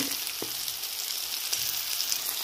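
Flat beans fry lightly in a pan, giving a close, steady hiss and sizzle with a couple of brief stirring clicks.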